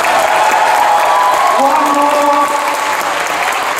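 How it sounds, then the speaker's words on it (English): An audience at a comic convention Q&A session claps in a dense burst of applause, with a voice speaking briefly over it. "it's now down to two rounds of applause I need"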